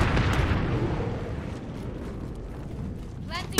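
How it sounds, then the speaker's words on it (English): Gunfire through a wall in Call of Duty: Modern Warfare, heard as heavy booming shots that are close and loud and that fade into a rumbling wash, with a sharp report at the end. "there's a guy shooting through the wall."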